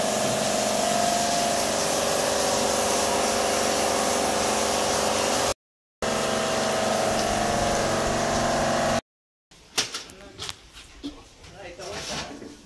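A pump clearing water out of a house's sump hums in a loud, steady drone with short breaks, then fades into quieter background as voices talk.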